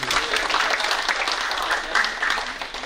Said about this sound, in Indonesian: Oke, boleh tepuk tangan buat bapaknya